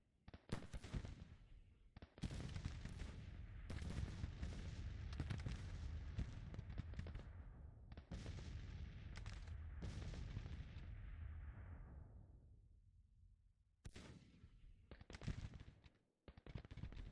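Gunfire from a Grand Tactician: The Civil War battle, with dense volleys and booming shots rolling almost continuously and loudly, breaking off briefly twice before the firing resumes in sharp bursts.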